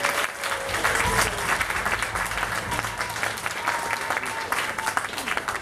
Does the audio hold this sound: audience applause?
yes